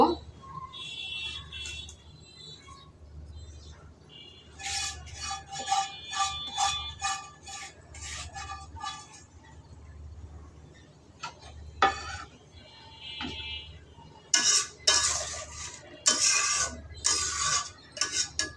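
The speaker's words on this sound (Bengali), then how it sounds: "এখন এখানে আমি বেগুনগুলি দিয়ে দিব।" Fried eggplant pieces are tipped into a curry in a pan and stirred, giving repeated clinks and scrapes of a utensil against the pan in short bursts, close and fairly loud.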